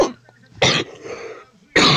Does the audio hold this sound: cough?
yes